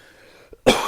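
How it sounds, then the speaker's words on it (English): A person with a cold gives a single sharp, close cough after a short quiet stretch and a small throat sound. "There's the cough, by the way."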